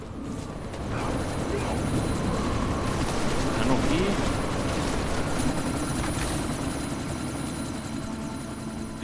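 A helicopter in the video game Deus Ex Mankind Divided runs as a continuous whirring drone during a sandstorm, a steady broadband roar under a short spoken line and faint background chatter.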